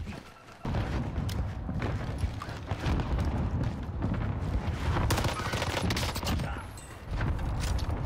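Gunfire in the shooter Warzone with a sniper-support loadout, a dense string of sharp, punchy shots and bursts, loud and close, with a brief lull near the start and another shortly before the end.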